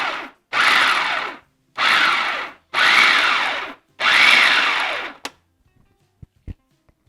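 A food processor pulsing chickpeas for a vegan chickpea tuna salad: five loud, whirring bursts of about a second each with short pauses between, then a few small clicks and knocks.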